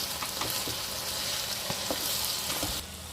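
Chicken fry with curry leaves and ground masala sizzles steadily in a pan while a utensil stirs it, scraping and tapping close up at an even pace.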